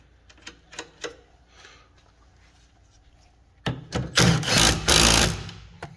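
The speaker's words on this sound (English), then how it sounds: "we're just going to go ahead and bolt down our sway bar" A ratchet or wrench bolts down the sway bar on a 2009 Toyota Camry during rear shock work, with a few sharp taps and clicks followed by a loud, close burst of rapid rattling.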